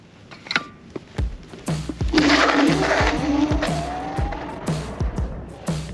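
A Kaabo Wolf King electric scooter accelerates hard on a clear road, its motor whine rising in pitch under loud wind rush and rhythmic thumps from the road surface.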